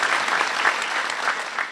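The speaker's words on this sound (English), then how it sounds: "I just want to give you all a round of applause" Applause from the audience at an award luncheon, a steady, dense wash of clapping hands that holds for the whole short stretch with no voices over it.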